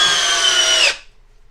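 A Milwaukee M12 FUEL hammer drill/driver drills straight down under firm pressure, a loud high whine lasting just under a second before stopping abruptly.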